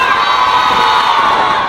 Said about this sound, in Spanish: Yo quisiera escuchar con el grito de hombres o mujeres